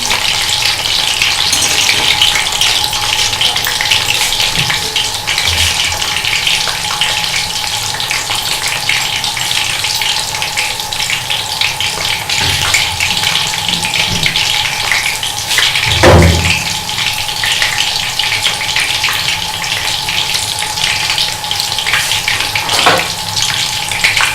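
Chicken pieces frying in oil in a pan, a steady close sizzle that runs throughout with scraping and a couple of low bumps from the pan, and no voices.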